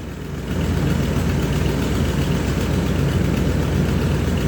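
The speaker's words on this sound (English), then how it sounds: "We've got it on max AC. And it's blowing." A used RV's air conditioner runs on max, giving a loud, steady whooshing drone with a low engine-like hum that holds even and constant throughout.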